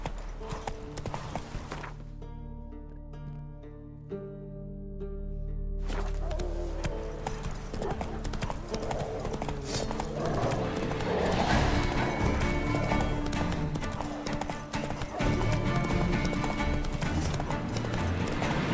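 Horse hooves galloping in a video game, a loud continuous clip-clop rhythm with music and game noise underneath, a short quieter break near the start, and a voice speaking briefly.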